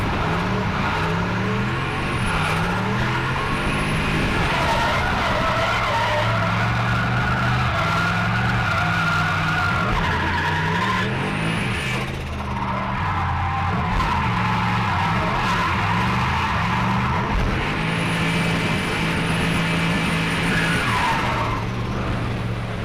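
Turbocharged drift car at Teesside track screams through a lap, engine revving high and falling repeatedly while tires squeal in long skids, loud and continuous throughout.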